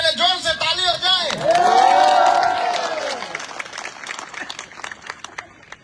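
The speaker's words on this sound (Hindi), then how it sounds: "ACF के लिए जोर से ताली हो जाए" A crowd at a political speech event with MLAs applauds and cheers for the ACF, loud clapping with whoops and a rising shout, then fading into scattered claps and murmuring.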